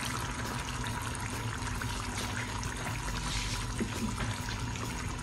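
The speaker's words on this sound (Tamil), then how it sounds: "கொஞ்சம் தண்ணி மட்டும் இது மேலே ஊற்றிக்கிறேன்" Water pours steadily over washed fish in a home kitchen, a continuous quiet splashing trickle lasting several seconds with no talk.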